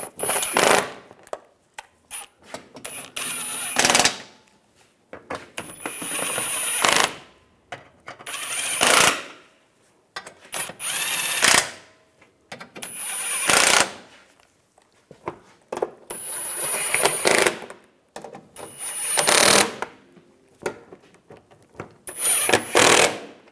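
Ratchet tightening exhaust manifold bolts on a 2013–2018 Hyundai Santa Fe, about eight short bursts of rapid metallic clicking separated by quiet pauses, close and crisp.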